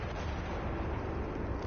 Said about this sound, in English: Bunch of explosions.